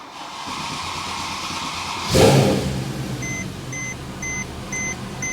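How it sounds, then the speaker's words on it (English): Engine of a 2010 Mercedes E63 AMG coupe cranking and firing up loudly after a quiet start, settling into a steady idle while a repeated electronic chime beeps several times in the cabin. "So we need to start the engine."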